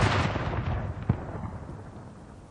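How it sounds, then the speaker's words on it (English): A field gun fires a single signal round at Prince Philip's funeral, a loud outdoor boom that rolls away slowly, with a sharper crack about a second later before the echo fades. "the bearer party paused as a field gun signalled the start of a 1-minute silence"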